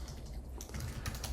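Keys on a computer keyboard clatter in a quick, close run of soft taps while a web form field is filled in, with faint room tone and no talking.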